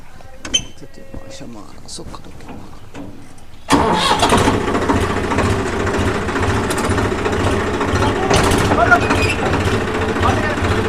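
Quiet voices and small clanks in a wheat field, then a tractor engine cranks and roars to life and keeps running loud and rough right up close.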